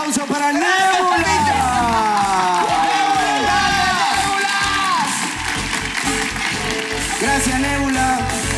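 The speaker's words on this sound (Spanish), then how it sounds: "Un gran aplauso para Nébula." Audience applause and cheering for a drag performer at a live comedy and drag show, a dense continuous roar of clapping and voices with a loud amplified voice singing or talking over it throughout.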